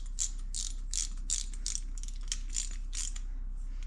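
A socket wrench ratchets quickly to tighten a part on a Mikuni carburetor during a rebuild, with a run of close, crisp clicking bursts that pause briefly near the end.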